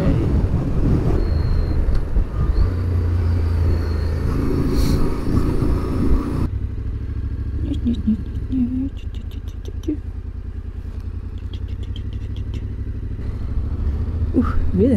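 Strong wind buffets the microphone while riding a motorcycle through Iceland, a constant loud roar throughout with the engine rumbling underneath and a few brief higher sounds mixed in.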